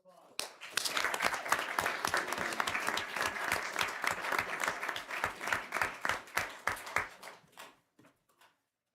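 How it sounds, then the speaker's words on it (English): A round of applause at a city council meeting: a few claps start, then the audience joins in a sharp, fairly close burst of clapping that thins out and stops. "Now let's give one more round of applause."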